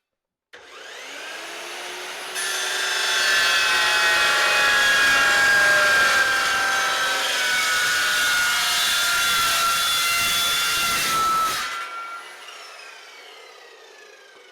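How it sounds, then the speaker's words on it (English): A chop saw with a carbide blade spins up and slices through a piece of steel angle iron, giving a loud, steady whining grind of about nine seconds that winds down after the cut, with no talking over it. "I've got this chunk of angle iron here. I'll just make a cut."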